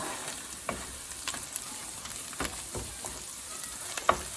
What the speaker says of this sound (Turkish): Şöyle güzel bir salçamızı kavuralım.